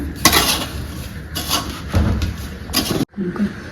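Grated coconut being stirred into a traditional kute ladoo mixture, with clattering spoon-on-vessel scrapes and knocks in several bursts, close and fairly loud, ending with a brief pause.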